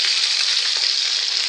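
Fish frying in very hot oil in a pot, a loud, steady, dense sizzle with fine crackle that holds evenly throughout, with no talking.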